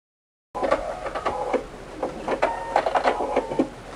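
A sewing machine stitches along the quilted lines of a velvet Christmas tree skirt, its close, steady mechanical whir broken by short rhythmic bursts and pauses after a brief silent start.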